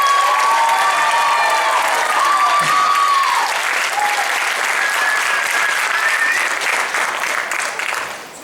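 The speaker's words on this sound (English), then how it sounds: "We have one more round of applause for soloist Mrs. Glong and Treble Check Choir and Women's Chorale." Sustained applause from a concert audience for a soloist and treble and women's choirs, a dense wash of clapping with a few whistles and cheers, steady and loud before fading near the end.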